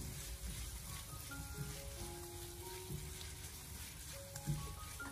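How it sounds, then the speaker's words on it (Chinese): Pork belly with garlic chili sauce stir-fries in a wok over low heat, a soft continuous sizzle broken by a few light spatula scrapes and clinks. "然后再继续的开小火给它翻炒几下"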